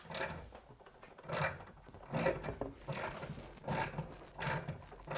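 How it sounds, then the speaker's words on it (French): A bench vise is cranked tight on the body of a cardan-joint pin replacement tool, giving a series of close, rhythmic ratcheting clicks and metallic turns about every second, with no voices. "on remet maintenant le corps dans l'étau et on va serrer"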